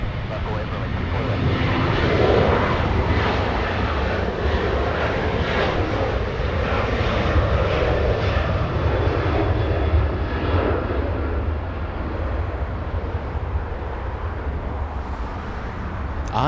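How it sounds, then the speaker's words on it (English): An Alaska Airlines Boeing 737-900 bound for Seattle roars steadily with jet engine noise at Los Angeles International Airport, a broad, loud rumble that holds for the whole stretch before easing slightly near the end. "We have Alaska Airlines getting a move on."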